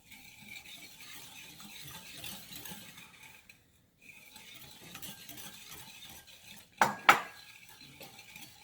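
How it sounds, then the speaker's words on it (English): Egg and sugar are beaten together in a bowl, a quick continuous clatter of utensil against the bowl with a brief pause partway, then two louder knocks near the end. "So just beat the egg and then add the sugar and beat."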